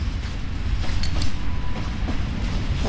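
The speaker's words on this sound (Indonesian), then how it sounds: "Ini yang ada suara kereta api itu." A steady, loud rumble of a train rolling along in a Roblox game, with faint rhythmic clacks and occasional squeaks over the continuous roar.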